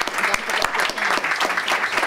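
Applause from a meeting audience at a colleague's last day as president, a brisk patter of many hands with sharp individual claps standing out, moderately loud and close, with a voice mixed in.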